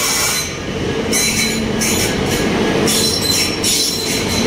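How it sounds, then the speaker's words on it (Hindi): The Ranakpur Express, hauled by a WAP-5 electric locomotive, rolls into a station with loud steady rumbling, clattering wheels and high squealing from the rails, close and continuous throughout. "तो दोस्तों फाइनली 2 की देरी के साथ अपनी ट्रेन आ चुकी है।"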